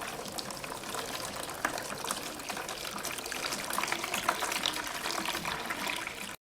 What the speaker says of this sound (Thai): ค่อยๆเทน้ำอุ่นลงไปนะคะ ในกระมังที่เราเตรียมไว้นะคะ